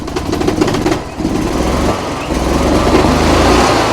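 Gas golf cart engine running loud and close with a rough, uneven idle that dips and recovers, its throttle body flooded with carburetor cleaner, and some faint talk underneath.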